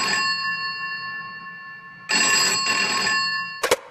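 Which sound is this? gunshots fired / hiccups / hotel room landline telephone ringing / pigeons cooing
hotel room landline telephone ringing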